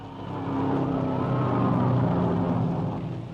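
Pre-war race car at Indianapolis, fitted with a Miller engine, drones past as one car overtakes another, a steady mid-loud engine roar swelling and fading over a few seconds.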